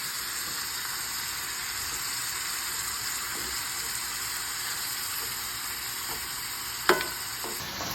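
Beef frying in a skillet, a steady hissing sizzle throughout with soft stirring scrapes and one sharp clink of a utensil near the end, close and with no talk.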